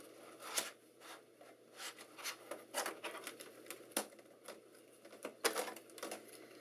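Plastic clicks and snaps from a Dell Inspiron 9100 laptop as its keyboard is pried off and lifted away, a run of irregular, close, fairly quiet taps and rattles with no talking.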